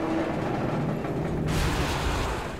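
In the video game Enslaved, a dense, loud roar of rapid gunfire and booming blasts, continuous throughout, intensifying halfway through; no speech.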